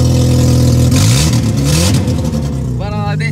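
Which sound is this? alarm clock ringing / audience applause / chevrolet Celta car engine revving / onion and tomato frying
chevrolet Celta car engine revving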